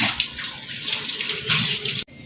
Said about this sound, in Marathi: आप्याचा तवा तोपर्यंत धुवून ठेवतो